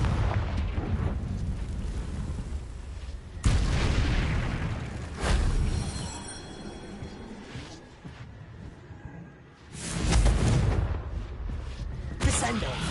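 Booming Confringo spell explosions from Hogwarts Legacy, a few loud fiery blasts with rumbling decay spaced several seconds apart, mixed with a voice speaking between them.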